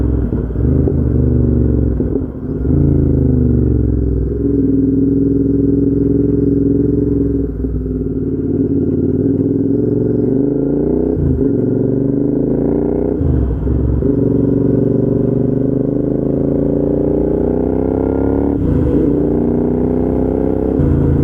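Royal Enfield Interceptor 650 motorcycle engine with exhaust baffles removed, heard up close as a loud, throaty twin-cylinder drone with several rises and drops in revs over about twenty seconds, no talking.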